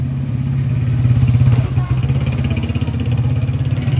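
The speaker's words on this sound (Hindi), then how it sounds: "ये दरअसल है सुली की बाइक" A motorcycle engine runs close and loud with a steady rapid throb and a brief surge of revving partway through, heard alone without talk.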